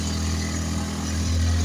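A motorcycle engine labours up a steep, freshly concreted uphill road with grip grooves on the way to Manungkot, a steady low drone that swells slightly toward the end, close and loud.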